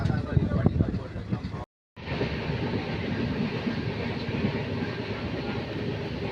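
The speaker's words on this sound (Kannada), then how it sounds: "ಈ ಟ್ರೈನ್ ಸೌಂಡು ಎಷ್ಟು ಚೆನ್ನಾಗಿ ನಿದ್ದೆ ಬರುತ್ತೆ ಅಲ್ವಾ?" A train runs on the way to Jog Falls, heard from inside as a steady rumbling clatter with a brief drop-out, continuous and moderately loud.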